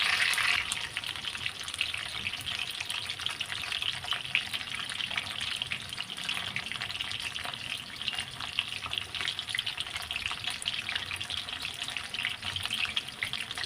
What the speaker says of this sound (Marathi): फ्लावर आहे ते फ्राय करून घ्यायचं आहे व्यवस्थित फ्राय करून घ्यायचं आहे